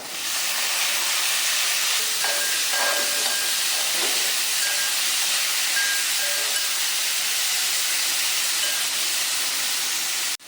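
Boneless pork pieces sizzling hard in a hot pan with onion and curry leaves, a loud continuous frying hiss that never lets up, with a few faint clinks underneath.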